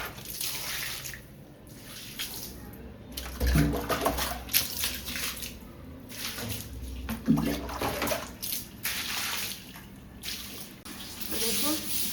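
Water is thrown and spread across a courtyard floor for cleaning, heard as repeated splashing surges that rise and fall in uneven bursts between quieter running-water stretches.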